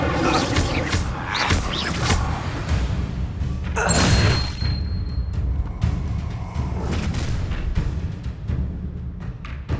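A fiery Incendio spell blast erupts in Hogwarts Legacy combat, a loud whooshing burst amid continuous crashes, thuds and booming game effects, close and dense throughout.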